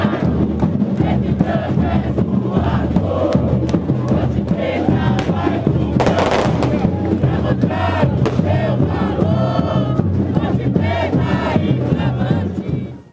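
Ponte Preta supporters chant and roar together in their stadium, a loud, sustained crowd of massed voices rising and falling in rhythm, with cheers surging throughout.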